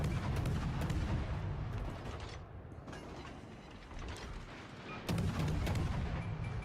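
Naval gunfire from warships in the World of Warships: Legends video game booms and rumbles repeatedly, with dense low-end salvos and sharp cracks layered over mechanical clatter.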